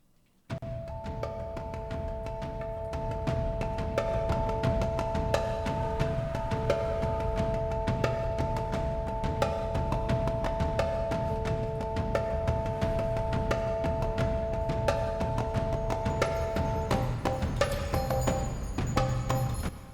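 Soloed percussion tracks from a soundtrack mix: dense, steady drum hits and rhythmic clatter over a low rumble, with held tonal drones running underneath for most of the passage. Loud and continuous with no talking.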